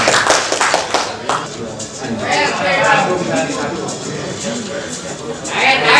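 An audience at a senior pro golf tournament event in Indonesia claps in a sustained round of applause, loud and close, while a voice talks over it near the start.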